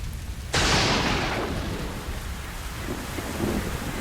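Rain and thunder in Metal Gear Solid 3, a sudden loud crash of thunder that rolls away into a steady hiss of heavy rainfall with no voices.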